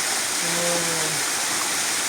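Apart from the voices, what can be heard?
strong flowing river water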